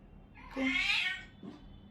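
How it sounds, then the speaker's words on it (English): A house cat just awake from a nap gives one drawn-out, bright meow near the mic, followed by a softer short chirp against a low background hum. "Okay, that's my cat."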